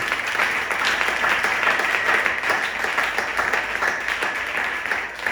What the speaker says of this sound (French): Acclame d'abord ce Jésus